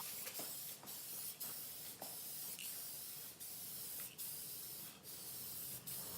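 A continuous hissing spray of a paint spray gun painting a Nissan 240SX, loud and close, with faint regular clicks pulsing through it.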